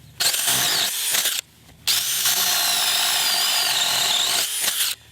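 A loud DeWalt cordless drill with a Power Stack battery whines steadily through material in two long bursts, pausing briefly between them, close up with no voices.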